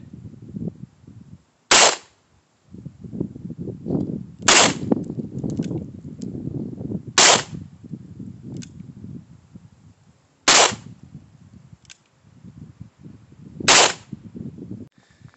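Ruger GP100 revolver with a 4.2-inch barrel fired outdoors, five sharp loud shots spaced a few seconds apart, with low rumbling background noise between them.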